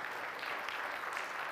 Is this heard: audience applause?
yes